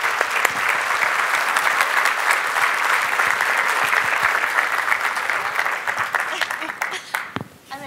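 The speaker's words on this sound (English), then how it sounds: "Please give Micha a round of applause." An audience applauds a speaker at a presentation with sustained, dense clapping that stays loud for several seconds, then tapers into scattered claps; faint voices sound near the end.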